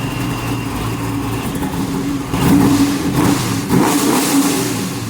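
A 600+ hp Foxbody Mustang with 225 heads and 80-pound injectors accelerates on the street, a loud, steady engine drone that swells into a harder rev partway through and stays strong to the end.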